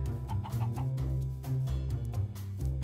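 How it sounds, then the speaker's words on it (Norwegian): Minecraft chickens cluck repeatedly in a busy, moderately quiet game scene, their short bird calls recurring over a dense low background. "Frittgående høns, det er nå lov, har vi vedtatt."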